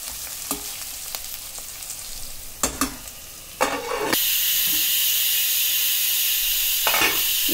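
A turmeric mixture for cauliflower fry cooks in a pan that then gets covered. Brief scrapes and clatters give way to a loud, steady hiss of sizzling and steam that holds close and even to the end.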